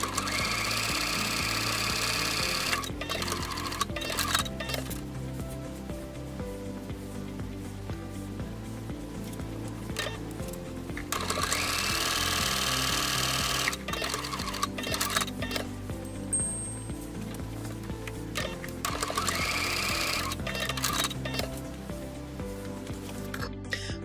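Home sewing machine stitching pleats on a shirt sleeve, running in steady bursts of rapid ticking with brief pauses between runs, close and fairly loud throughout.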